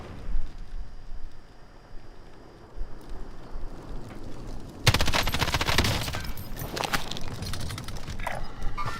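Gunfire in Call of Duty Warzone breaks out after a few quiet seconds of ambient noise, loud rapid bursts and scattered shots crackling close by for the rest of the stretch.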